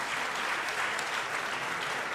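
Audience at a quiz grand final applauds steadily, a dense, even roar of many hands clapping that holds at constant loudness throughout.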